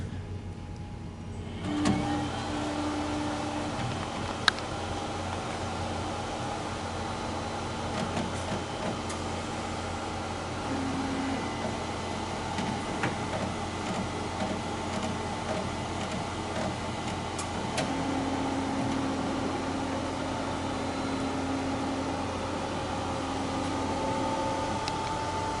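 A Ricoh Ri1000 DTG printer moves its table in for a nozzle check, giving a steady mechanical hum with short whining motor tones coming and going throughout, no talking.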